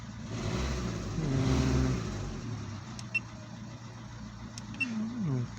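A Fiat Linea's engine revs up and then falls back to a low idle hum, with a couple of short electronic beeps later and a faint voice at times.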